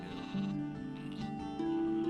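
Sheep bleating on a farm in the video game Gothic 2, with two drawn-out bleats over a steady ambient background and music-like tones, fairly close and clear.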